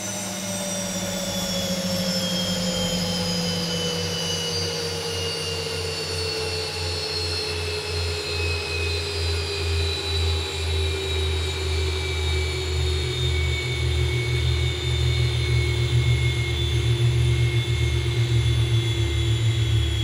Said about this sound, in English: This plane sounds amazing at shutdown.